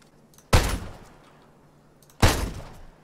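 A shotgun firing in ARMA 3: two loud, sharp blasts about two seconds apart, each followed by a fading echo.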